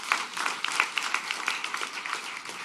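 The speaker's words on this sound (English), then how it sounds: "So give him another round of applause for vision as well." Crowd at a ribbon-cutting ceremony and grand opening, applauding in a brisk, moderately loud round of many hands clapping, close and unaccompanied by speech.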